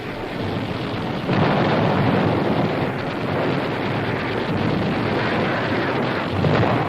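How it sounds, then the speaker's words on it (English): WWII artillery fire in archival footage: a loud, continuous rumbling roar of distant barrage, swelling slightly at times, with heavy low-end noise and no distinct separate booms, no voices. "Enemy artillery tries to find a destructive Red Army rocket battery hidden somewhere in this area."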